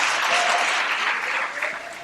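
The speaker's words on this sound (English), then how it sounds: "I want the church to clap their hands unto the Lord." A church congregation claps their hands at a wedding ceremony, a dense, continuous roomful of clapping that runs for two seconds with no voices over it.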